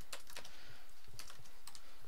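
Quick, uneven keystrokes on a computer keyboard while entering vertex code, clicking close and steady in short bursts with no voice.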